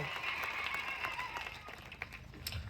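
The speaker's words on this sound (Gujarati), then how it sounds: "આપણે તાળીઓના ગણગણાટથી સ્વાગત કરી લઈએ મિત્રો" An audience at a political public rally applauds in a faint, distant patter of many hands that continues steadily and then thins out toward the end.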